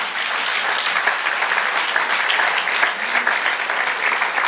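A church congregation applauds during a Spanish-language sermon, loud sustained clapping from a large crowd filling the room evenly with a faint murmur of voices beneath.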